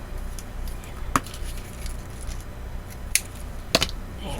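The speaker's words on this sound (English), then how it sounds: "I'm going to use my big scissors for this" A few sharp snips from big scissors cutting a 12x12 sheet of craft paper, isolated crisp cuts spaced irregularly over quiet room tone.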